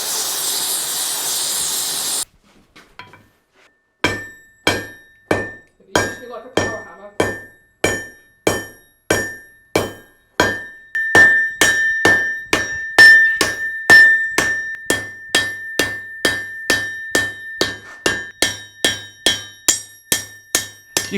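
Steady, ringing hammer blows on a hot old steel pry bar being forged into a knife by a hammer team, about two per second, loud and close, following a brief hiss at the start.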